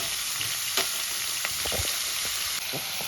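Ridge gourd fries over a high flame in a pan with a steady close sizzle, broken by a few sharp stirring clicks and no voices.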